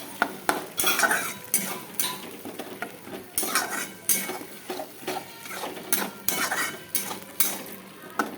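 Mutton masala is stir-fried in a pan with a splash of hot water, producing repeated loud metal scrapes and clanks of a spoon against the pan in uneven bursts over a faint sizzle.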